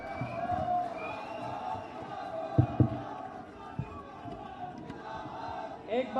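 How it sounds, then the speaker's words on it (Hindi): A large crowd at a youth centre foundation-stone ceremony in Rajasthan roars with cheering and clapping for a guest, a sustained mass of voices with a few sharper shouts rising through it. "एक बार जोरदार तालियां होनी चाहिए सर के लिए"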